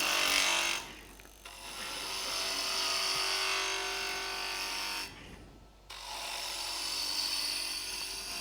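A relief cut made while building homemade pen assembly tools produces a loud, continuous rasping cutting noise that stops briefly twice, then resumes steadily.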